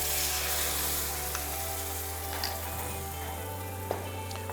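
A fish cream sauce bubbles and sizzles softly in a pan, a steady frying hiss with occasional small clicks of a utensil, close by and without talking.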